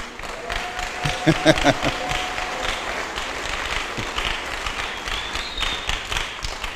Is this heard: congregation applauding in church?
yes